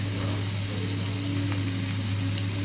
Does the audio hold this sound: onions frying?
yes